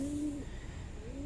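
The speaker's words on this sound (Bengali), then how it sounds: "এটা হচ্ছে কবুতরের শব্দ কবুতর কু কু করতেছে ওই পাশের ফ্ল্যাটে" Pigeons coo from a neighbouring flat, two soft drawn-out tones a moment apart over low background hum.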